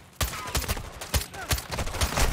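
Rapid bursts of gunfire from the video game Call of Duty Modern Warfare II, sharp repeated shots in quick clusters, loud and close, with game sounds in the background.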